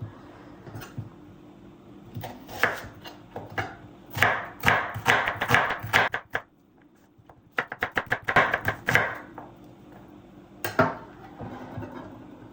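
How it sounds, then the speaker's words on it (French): Onions are sliced with a knife on a board, the blade striking in quick rhythmic bursts of crisp taps separated by short pauses, close and clear with no talking. "je vais émincer les oignons"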